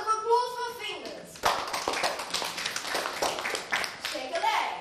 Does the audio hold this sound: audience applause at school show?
yes